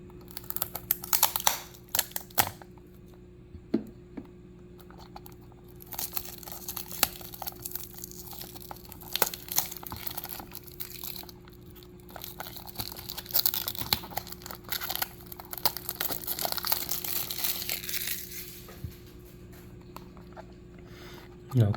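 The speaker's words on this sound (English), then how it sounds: "Let's unbox and see how it looks." Packaging of a Tomica Premium Lamborghini Essenza SCV12 toy car box crinkles and rustles in irregular close bursts, with scattered taps and tearing sounds as it is opened.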